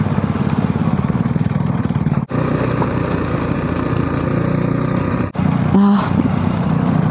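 Motorcycle engine while riding on a dirt road in Calabria, a steady close throbbing drone with two brief dips, plus a short tonal beep near the end.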